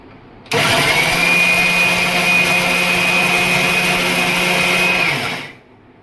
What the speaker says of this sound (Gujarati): જો સાબુદાણા જાડા હોય એટલે એ આપણે દળાઈને એને વાર લાગે એટલે આને થોડીક વાર વધુ આપણે દળવું પડશે